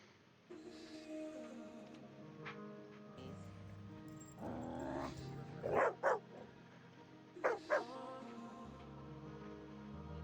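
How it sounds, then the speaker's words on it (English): A dog recovering from leg surgery barks and yips indoors in two quick pairs of sharp barks, with a whiny vocal stretch before them and low background noise between. "My beloved psycho dog."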